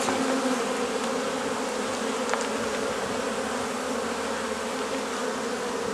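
Dense, steady buzzing of many Carpathian honey bees, loud and close, continuous throughout with no voices.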